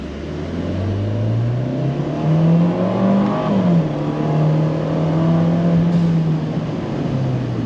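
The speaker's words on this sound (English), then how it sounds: "Oh, you could hear the little turbo wastegate." A Fiat 124 Abarth engine hums and rises steadily under acceleration, its tone climbing and dipping, with a brief hiss of a turbo wastegate venting partway through.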